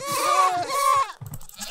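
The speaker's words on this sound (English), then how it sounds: "Here's that noise multiplied by 100." Minecraft goat bleats stacked into a loud, layered chorus of wavering cries, two long bleats followed by a choppier burst, close and without talk.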